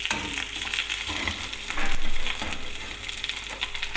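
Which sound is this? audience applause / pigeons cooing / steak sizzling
steak sizzling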